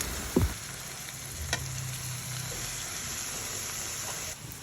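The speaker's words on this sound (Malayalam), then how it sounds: "ഒരു 3 വലിയ സവാളയാണ്, അത് ആഡ് ചെയ്ത് അതൊന്ന് നന്നായിട്ട് സോട്ട് ചെയ്തെടുക്കുകയാണ്" Three large sliced onions sautéing in oil with chilli-garlic-ginger paste for a prawn biryani, a steady close sizzle with an occasional stirring scrape and a brief knock near the start.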